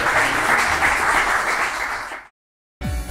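Loud, dense applause from a crowd fills the space, then cuts off abruptly into silence before a brief burst returns.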